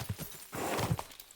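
Horse hooves clip-clopping in Kingdom Come: Deliverance II, a quick run of near hoofbeats with a brief snort, loud over outdoor ambience.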